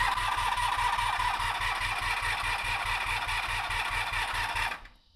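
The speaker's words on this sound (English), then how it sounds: "The starter locked on. It wouldn't disengage. I was hearing this whine" A small engine's starter motor stuck engaged, a loud continuous high whine over a fast, steady low chugging pulse that runs for several seconds, then drops abruptly into silence.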